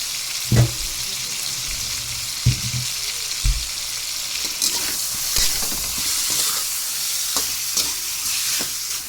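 Chicken fries in a pan for a sour chicken soup, giving a steady close hiss and sizzle throughout, with a few louder stirring knocks and clatters near the start.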